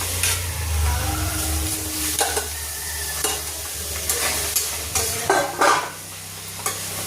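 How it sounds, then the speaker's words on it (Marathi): Cooked lemon pieces stirred in a kadhai, a spoon scraping and knocking the pan in uneven strokes over a low, steady sizzle, close and moderately loud. "ना हे लिंब या कढईमध्ये टाकायचे"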